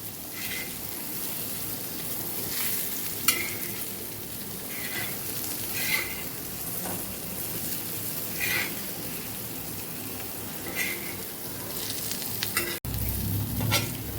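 Brinjal sizzles steadily in a pan of oil with occasional stirring scrapes, a constant close hiss throughout and no one talking.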